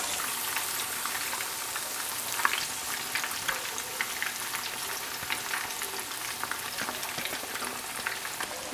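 Fish pieces shallow-frying in hot oil give a continuous, even crackling sizzle with scattered pops, moderately quiet and steady throughout, with no voices.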